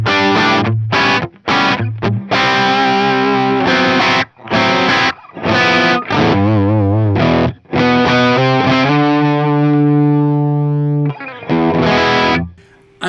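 Electric guitar through a Mesa Boogie Mark V amp in clean mode with a touch of 808 overdrive pedal, loud close chords and picked phrases with brief gaps and a long sustained ringing chord near the end.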